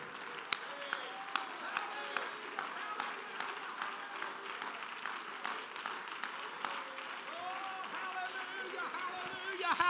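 A congregation claps in rhythm during a youth camp worship service, with steady sharp claps under continuous loud singing and speech.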